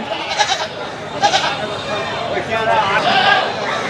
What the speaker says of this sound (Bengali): হাটের অনেক বড় বড় ছাগল উঠেছে